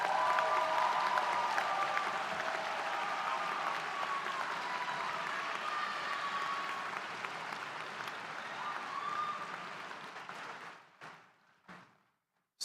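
Sustained applause and some cheering for new graduates at a University of Pittsburgh School of Education commencement ceremony, a dense steady wash of clapping that fades out over the last couple of seconds with a few final claps.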